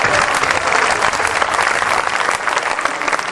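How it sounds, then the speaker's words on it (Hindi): Dense, steady applause from an audience at a Hindi kavi sammelan poetry event, loud and continuous throughout with no pauses. "एक बार तालियां मालियां बजा दो।"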